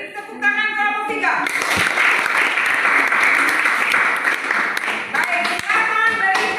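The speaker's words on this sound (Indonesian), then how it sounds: "beri tepuk tangan kelompok 3" Applause for a presenting discussion group in a class session, a dense burst of many hands clapping that starts after a brief voice and keeps going loudly before fading under talk at the end.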